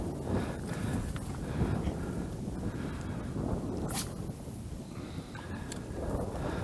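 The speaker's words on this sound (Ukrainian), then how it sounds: "Такий дуже сильний вітер дує в лице." Steady, strong wind roars and buffets continuously across the whole stretch at a pond in winter, with a faint brief tick partway through; no one speaks.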